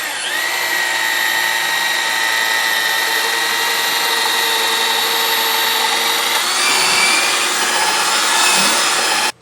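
Power drill boring a hole through timber on a barn project, running continuously at high speed with a steady whine that shifts pitch near the end as the bit works through the wood.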